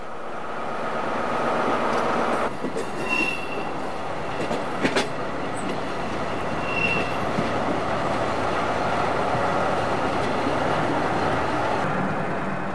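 Heard from on board, a Picasso X-3800 diesel railcar rolls along the main line tracks through a station area, steady engine drone with rhythmic wheel clatter and occasional squeals.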